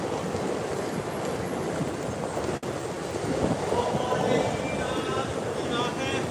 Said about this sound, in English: I'm always attracted by the sound of a rolling train. That's the Keihin Tohoku line, I think.